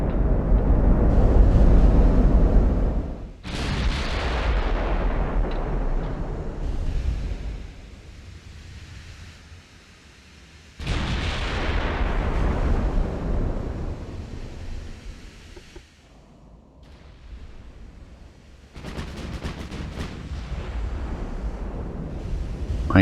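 Warship gun turrets firing in Ultimate Admiral: Dreadnoughts, heavy booming salvos with a rumbling, wave-like roar: a loud blast near the start, another around the middle, and a sharper burst late, each trailing off into low rumble.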